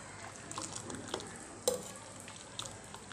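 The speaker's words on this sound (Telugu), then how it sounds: "చూడండి పప్పుచారు మరుగుతుంది" Pot of pappucharu dal soup bubbling on the stove, a faint, steady simmer with soft pops and one sharper clink, no voices.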